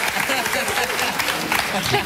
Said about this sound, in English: What a weird thing to clap about.